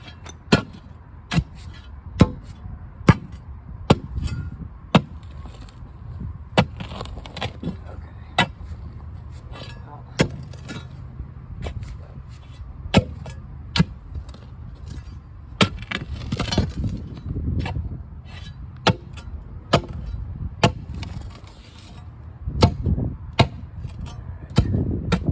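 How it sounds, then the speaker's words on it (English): A post hole digging bar strikes the ground around a post in sharp, evenly spaced metallic thuds, roughly one per second, close and loud over faint background noise. "I take out this post hole digging bar is what the label says."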